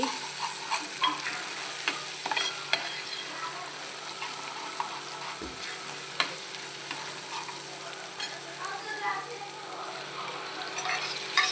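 Spinach puree fries in oil with turmeric and garam masala, a soft, steady sizzle close by, dotted with scattered pops and clicks and a single low knock, with no talking.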